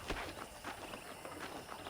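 Horse hooves clip-clopping in Red Dead Redemption, an even, quick rhythm of soft close thuds on a ranch, with steady outdoor ambience and no talking.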